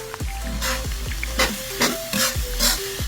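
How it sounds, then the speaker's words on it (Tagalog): Ingredients stirred in a sizzling pan with onion leeks and three long green chilies, a spoon scraping in repeated strokes over a steady frying hiss, close and fairly loud with no talk. "Haluin lang natin"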